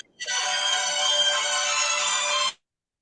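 An iPhone ringtone plays loud and close, a steady bright melodic tone that sounds alone for about two seconds and then cuts off abruptly.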